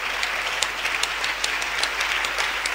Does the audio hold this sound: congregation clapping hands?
yes